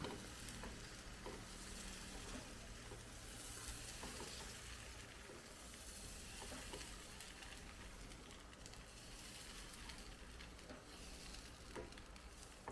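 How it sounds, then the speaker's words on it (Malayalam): A thin red lentil dosa spread on a hot non-stick pan sizzles steadily and close by for several seconds, a continuous crackling fry with faint scraping and no voices. "ഇനി നമുക്ക് നമ്മുടെ ദോശ ചുട്ട് നോക്കാം"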